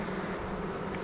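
Dense buzzing of a calm swarm of honeybees settling around a swarm trap, a steady even hum that holds through the whole short moment with no voices.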